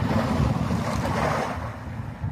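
Sea waves wash in a continuous low rumble mixed with wind noise on the microphone, steady and fairly loud throughout.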